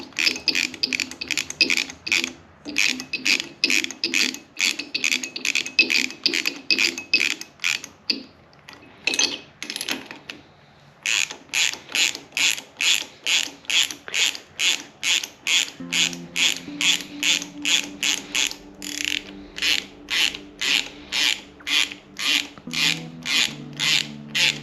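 Repeated rasping clicks of a ratchet working tight bolts loose on a Kawasaki KZ900 motorcycle rebuild, close and steady in rapid bursts with two brief pauses, a lower grinding tone joining in the later strokes.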